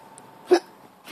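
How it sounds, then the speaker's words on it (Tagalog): Two sharp hiccups from a child, one in the middle and another at the end, short and close against a quiet room. "Oh, tingnan mo, sinisinok kami."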